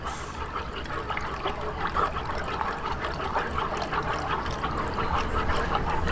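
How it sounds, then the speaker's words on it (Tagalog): Evaporated milk is stirred into a creamy mixture, giving a soft, continuous liquid sloshing with faint wet clinks close by. "itong isang latang evap milk. Ayan, haluin lang po natin para mag-mix."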